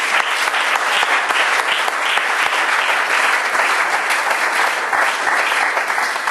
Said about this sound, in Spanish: Ofrenda de aplausos al Señor, hermano.